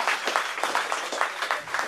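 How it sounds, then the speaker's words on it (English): An audience at a Web Wednesday meetup in Hong Kong claps for a guest speaker, a steady, dense burst of applause filling the room for about two seconds with no talk over it. "a big round of applause for our guest speaker."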